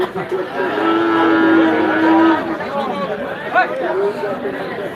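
Frisian cattle at a busy livestock market, a long drawn-out low moo followed by more calls amid the chatter of a crowd, with people talking throughout.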